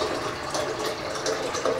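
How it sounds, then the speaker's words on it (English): Freshly harvested spring water from Stokes State Forest, New Jersey, is poured into a container, a steady close splashing gush with no talking. "I'm going to put about 16 ounces of this freshly harvested spring water"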